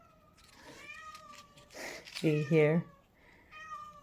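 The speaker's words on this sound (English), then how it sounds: "Oh, sorry about my cat." A house cat meows several times in the middle of the clip, close and fairly loud, its rising-falling cries between a person's quiet talking while doing paper crafting with stamps.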